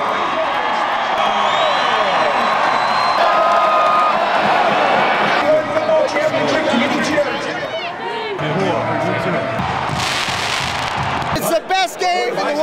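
Sellout stadium crowd at an NCAA Division I football championship game in Frisco, Texas, a loud continuous roar of cheering and chatter with swelling bursts, sustained throughout.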